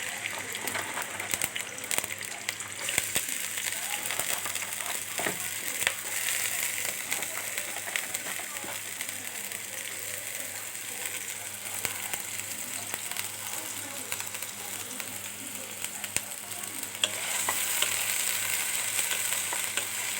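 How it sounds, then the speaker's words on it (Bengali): Chopped onions fry in oil in a wok with a steady, close sizzling hiss that lasts throughout and swells a little louder toward the end. "তো প্রথমে আমি কড়াইয়ে তেল দিয়ে দিলাম। এখন আমি এখানে দিয়ে দিচ্ছি"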